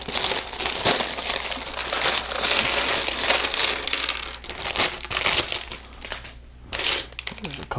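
Plastic bags of Lego pieces being torn open and handled, a steady loud crinkling and rustling with small pieces rattling and clinking inside, continuing for several seconds up close.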